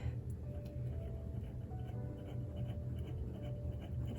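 Quiet, close scratching of an extra fine Goulet steel fountain pen nib gliding across paper, with a steady low background hum throughout.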